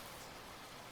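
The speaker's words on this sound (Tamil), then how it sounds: "மழை நிக்கிற மாதிரியே தெரியல" Steady rain falls continuously, a dense even hiss with no voices over it, heard during an evening when school has already let out.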